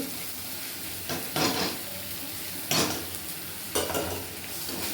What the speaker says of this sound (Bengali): একটু মিশিয়ে নিচ্ছি, হালকা করে মিশিয়ে নিলাম।